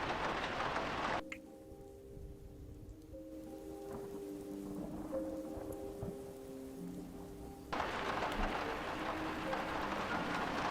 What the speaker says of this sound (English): So it's a rainy map